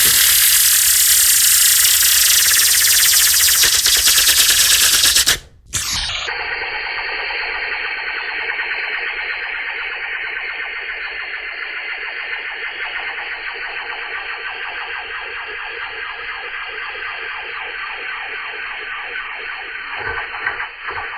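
A human voice imitates a laser: a hissing rush, then a sharp downward zap, followed by a long, buzzing, wavering electronic whine.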